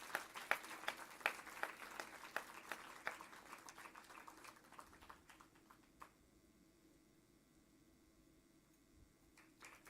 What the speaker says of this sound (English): I request the audience to please clap generously for the same.